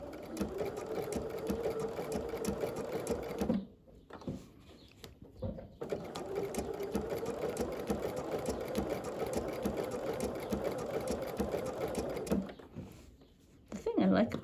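Sewing machine running a blanket stitch along camper fabric, a steady close mechanical whir that pauses briefly twice and then starts up again.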